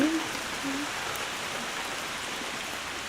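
Steady rain falls outdoors over a garden during a fall harvest, a soft continuous hiss with a faint voice briefly at the start.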